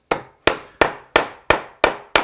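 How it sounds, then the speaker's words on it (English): Cherry pin dowels are tapped into tapered holes in a wooden joint, seven sharp, evenly spaced knocks ringing out close and clear with short decaying tails and nothing else in between. "all you do then is just tap those dowels in"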